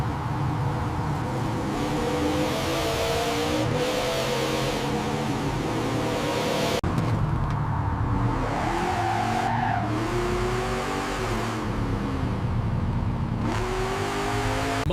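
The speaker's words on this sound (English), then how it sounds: "muscle car accelerates hard, exhaust roaring, pure American muscle" A restored muscle car, pulled from a collapsed garage after 35 years, accelerates hard with its exhaust roaring, a loud sustained engine drone that rises and shifts in pitch throughout.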